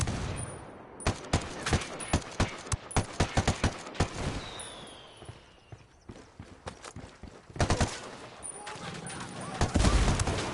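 Rapid bursts of gunfire and heavy mortar blasts from a PS4 shooter video game, sharp cracks in clusters with louder booming impacts, some brief voices under the combat.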